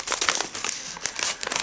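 A tea packet crinkles and rustles as it is handled up close, a busy run of crisp plastic-foil crackles with no voices.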